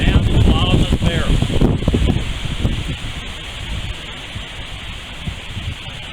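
Strong wind blows outdoors at a historical site, roaring and buffeting the microphone with a broad rushing noise that eases slightly over time while voices talk underneath.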